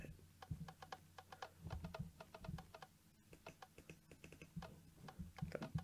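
Computer keyboard typing in a Minecraft adventure map, a steady run of quick, close key clicks with brief pauses, fairly quiet over a low background hum.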